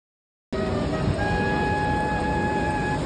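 A train ride at Tokyo DisneySea, with a loud, steady rumble and whine of the moving carriage that starts abruptly after a half-second of silence and runs on continuously.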